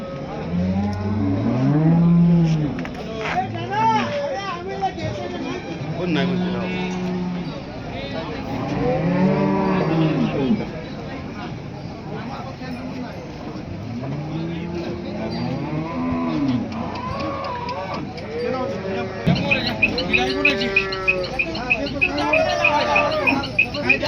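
Cows moo again and again at the Chakan cattle market, long drawn-out lows from several animals near and farther off, with people talking and market bustle in between.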